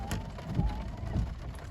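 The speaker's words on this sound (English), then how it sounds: "And you can see the rainy conditions over today in Miraj." Rain falls on an electric car during a drive in Miraj. It sounds like a steady, close patter of drops over low road and cabin rumble, with a few soft thuds and no voices.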